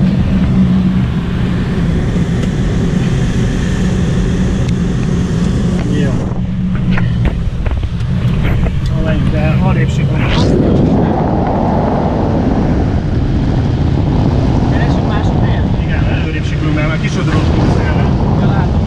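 A GOBE light aircraft drones steadily in flight with loud engine roar and wind rush, and the tone shifts partway through while people talk over it.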